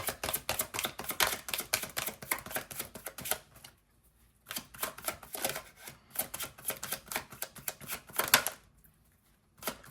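Tarot cards shuffled in rapid, close crisp riffles and taps, rhythmic clusters broken by two short pauses, with no talking.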